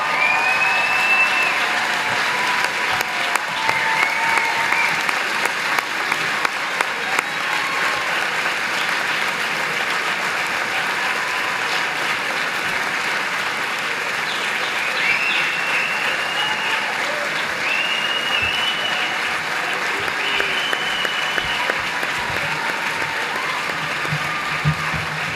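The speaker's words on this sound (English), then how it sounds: "stand up and applaud the people that have brought you to this moment in time" A large commencement crowd at Carthage College's 2015 graduation ceremony claps continuously in dense, sustained applause, with occasional whoops and faint voices mixed in throughout.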